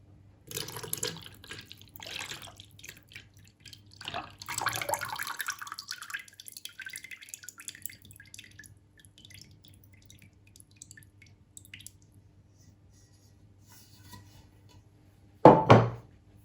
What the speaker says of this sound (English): I'm now going to add the finished ink.